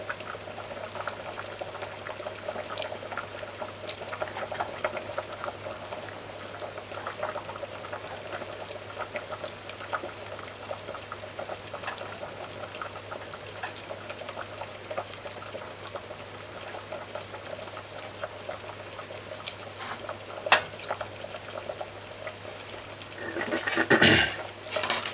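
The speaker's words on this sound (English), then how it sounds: "So you just cover this and allow it to boil." Chicken foot and pea stew simmers in a covered pot, a faint steady bubbling and hiss under a low hum, with a few soft clinks and a brief louder rattle near the end.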